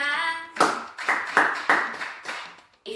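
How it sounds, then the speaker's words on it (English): Nursery children clap their hands along to an action song in a few loud, distinct bursts, about one per beat, after a sung line at the start. The claps are close and reverberant. "If you love your mommy, clap your hands."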